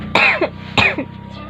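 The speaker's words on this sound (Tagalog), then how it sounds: "yung ubo ko, hindi naman masyadong, ano, ganun kalala" Two short, harsh coughs from one person close to the mic, separated by a brief pause.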